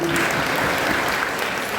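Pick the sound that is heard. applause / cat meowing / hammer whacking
applause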